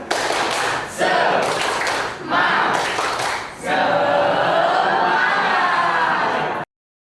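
A class of students doing a rhythmic spirit clap, loud patterned bursts of clapping with short pauses between groups, then a longer sustained stretch of clapping and crowd noise near the end.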